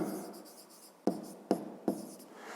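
Close, quiet strokes of a pen on paper while writing out a fifth-grade math exercise: three crisp taps with short scratchy trails, no voice present.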